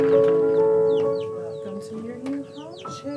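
A few chickens cluck in short, scattered calls, fairly close, over a sustained tonal background that fades after the first second.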